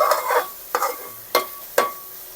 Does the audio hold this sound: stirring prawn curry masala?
yes